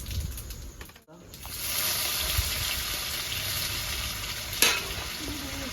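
Dry red chilli and whole cumin hit hot oil, a brief quiet moment giving way to a sudden bright sizzle that holds steady and close, with one sharp clink of a utensil near the end.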